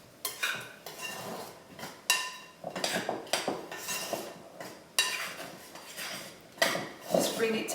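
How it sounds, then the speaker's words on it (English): A knife scrapes and clinks against a mixing bowl while cutting milk into scone dough for cheese scones, in a run of uneven close strokes with no talk. "I like to use a knife to make scones, I always have."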